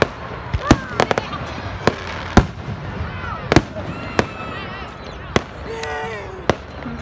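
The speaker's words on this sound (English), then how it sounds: "I love fireworks, they never get old." Fireworks burst outdoors on a long-weekend evening, a series of sharp, loud booming pops at irregular intervals with crackle between them, while people talk and exclaim in the background.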